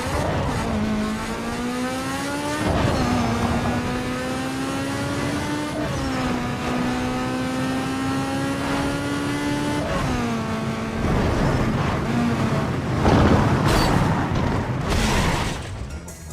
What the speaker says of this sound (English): I just want to let you guys listen to this engine, because for the game, engine sounds awesome